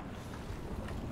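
Speedboat engine droning steadily on open water in Battlefield 4, a low continuous rumble with wind buffeting, moderately loud and unbroken.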